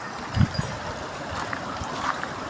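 A flooded stream after days of torrential rain in Pune district rushes in a steady broadband wash, moderately near, with a couple of soft knocks early on.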